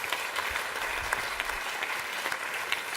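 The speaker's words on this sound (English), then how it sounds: "we really have to applaud the superb performance that's been put up today" Audience applause following a performance of sacred Sikh music honouring the Tenth Sikh Guru at a formal evening event, steady dense clapping that stays fairly soft and even throughout.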